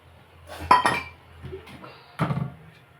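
A metal pan set down on a kitchen gas stove gives a few clinks and knocks in quick succession, with a sharper clatter midway and another at the end, close and moderately loud.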